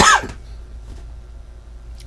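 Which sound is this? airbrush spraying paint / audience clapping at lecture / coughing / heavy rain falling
coughing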